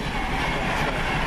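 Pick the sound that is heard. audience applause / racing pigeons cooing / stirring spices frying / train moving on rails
train moving on rails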